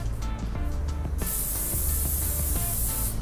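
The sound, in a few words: hairspray being sprayed onto fingers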